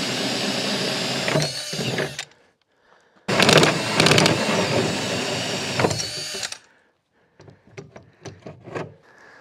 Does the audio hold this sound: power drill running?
yes